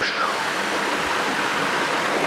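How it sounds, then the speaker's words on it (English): Small waterfall in a gorge near Tokyo at Kongo Falls, a steady rushing splash of falling water heard close, filling the air as continuous broadband noise with no talk. "This is a very, very small waterfall."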